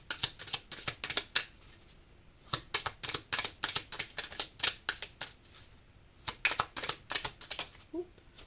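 Oracle cards being shuffled and drawn, a long run of rapid crisp riffling flicks in bursts with short pauses, close and fairly quiet, no talking.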